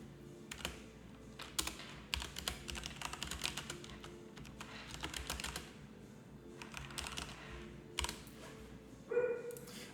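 Rapid keystrokes on a computer keyboard, tapped nearby in uneven bursts with short pauses between runs, and no talking over them.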